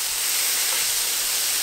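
Cheesesteak beef sizzling on a hot griddle gives a steady, loud hiss that fills the short stretch without pause and with no talking.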